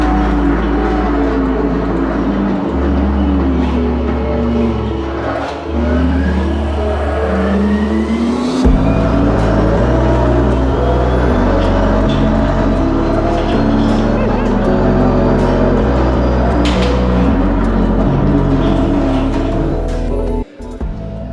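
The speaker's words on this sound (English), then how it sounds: "It's the driving simulator, full-on rig with Mount Fuji Speedway." A full-rig driving simulator running a race car around Fuji Speedway, with a loud, steady engine drone and shifting pitch as gears change, continuous throughout with a brief dip near the end.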